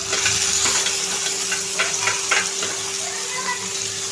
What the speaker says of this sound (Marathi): आणि आता हे छानपैकी परतून घ्यायचं आहे।